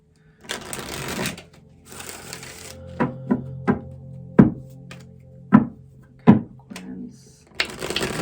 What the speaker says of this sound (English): I'm going to get these cards all up off the table.